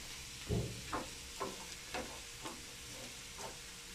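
Onion and garlic fry in a pan with a low, steady sizzle, and a run of soft stirring scrapes comes at regular intervals, close and quiet.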